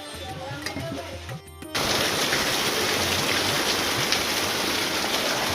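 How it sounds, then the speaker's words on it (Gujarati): Heavy rain pours down in a village, a loud, steady wash of drops that begins abruptly partway through after a quieter stretch and then continues unbroken and close. "મિત્રો આજે તો ખતરનાક વરસાદ પડ્યો,"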